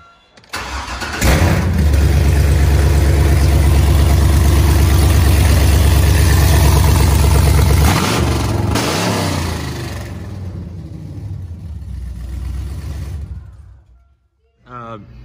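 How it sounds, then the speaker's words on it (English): A loud 2007 Chevrolet Silverado engine with straight long-tube headers roars at a steady high idle for several seconds, then eases down and shuts off, leaving quiet. "This is gonna be straight header, so let's see how that thing sounds like."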